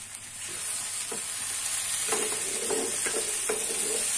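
Noodles with vegetables and packet seasoning are stirred in a frying pan, a steady sizzle with several distinct scraping stirs near the end, close and alone without talk.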